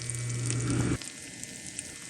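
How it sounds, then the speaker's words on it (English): Loud sizzling and crackling of chicken frying in hot grease in a skillet, with a brief low hum in the first second before the sizzle continues alone. "You want it to immediately start frying in the grease."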